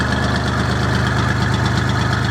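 A Perkins 152 diesel engine on an Aveling Barford GRT road roller runs at a steady, close, loud idle with an even knocking chug and no talk.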